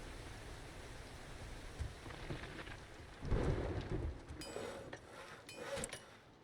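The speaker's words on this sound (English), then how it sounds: "Those storms sound so good." In the zombie survival game Seven Days to Die, a thunderstorm pours steady rain while deep thunder rolls swell and fade, loudest in the middle. There is no talking.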